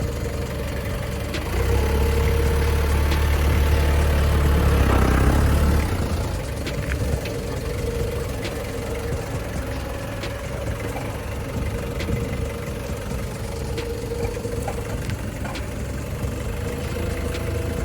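A forklift engine running while the machine drives, a steady low idling rumble with a louder surge early on that then settles into an even hum, close by, with no speech.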